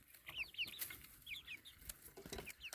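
Several young grey hens cluck and chatter softly in short bursts, fairly close but quiet, with light rustling between the calls and no speech.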